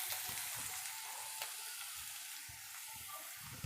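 Cumin seeds, chopped onion and green chilies fry in oil, a soft, even hiss with low, irregular knocks from stirring in the background.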